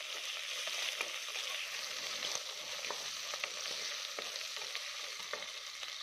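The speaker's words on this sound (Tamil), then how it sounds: "இப்போ பாதி அளவுக்கு வெங்காயம் வதங்கிருச்சு." Onions with asafoetida sauté in hot oil for a garlic kulambu, a continuous soft sizzle broken by regular clicks and scrapes of stirring, with no one talking.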